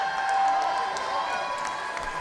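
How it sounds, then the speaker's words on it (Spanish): A crowd gives Susi an ovation, with sustained applause and cheering from many people at a steady, moderate level and a few sharper claps standing out. "¿qué más querés con la ovación de toda esta gente?"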